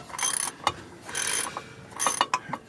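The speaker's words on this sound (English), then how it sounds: "I'm trying to turn a bolt, and it's rotating the drive shaft" A bolt is turned on the free-spinning drive shaft of an E63 BMW 645Ci, giving a few bursts of ratcheting clicks and mechanical whirring with short metallic knocks in between, close up with no talk.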